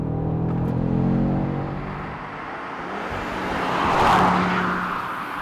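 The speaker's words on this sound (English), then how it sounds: "the RS3 has a warbly five-cylinder engine" The 2.5-litre turbocharged five-cylinder engine of an Audi RS3 drones steadily with a warbly tone, swelling as it revs harder near the end, with no talking.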